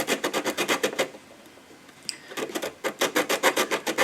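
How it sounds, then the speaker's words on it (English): Wooden guitar bridge feet sanded back and forth on sandpaper during a 1960s Truetone guitar tune-up; close, loud rhythmic rasping strokes in quick regular runs, with a short pause in the middle before the strokes resume. "I've just got some sandpaper sitting on the top, and I'm just barely moving this back and forth"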